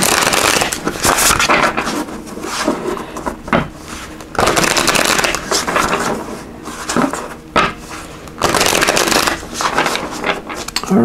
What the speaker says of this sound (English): So let me just give these a good shuffle.